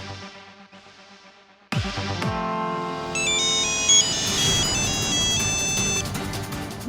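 A phone ringtone announcing an incoming video call bursts in loudly after a short quiet stretch, a bright repeating electronic melody that carries on steadily to the end with no talking over it.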